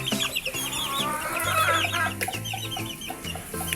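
Several hens cluck in quick, uneven bursts close by, with a few higher chirping calls mixed in, likely from chicks, and no talking.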